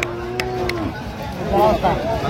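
Cattle moo at a rural cattle market in Dinajpur, where dairy cows and calves are being sold, two low, drawn-out calls close by over a busy crowd murmur.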